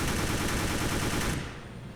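In Roblox Mad City, a weapon fires in a dense, rapid automatic burst that stays loud and continuous, then cuts off sharply near the end, leaving only a fading tail.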